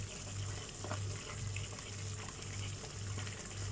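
Water poured into biryani masala in a home kitchen gives a continuous liquid gushing and splashing, fairly close, over a steady low background hum, without talking.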